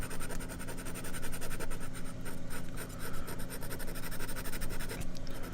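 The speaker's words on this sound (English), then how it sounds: "just make some scratches on the paper" A sharp drawing tool scratches across paper to build pencil texture, making a steady, close, dry scraping that runs continuously with small rhythmic strokes throughout.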